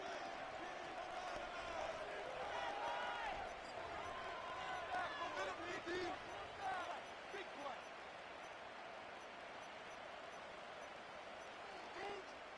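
Stadium crowd noise in a Madden football video game, a steady distant roar of cheering voices that swells early and then settles into a constant hum, with commentary voices over it.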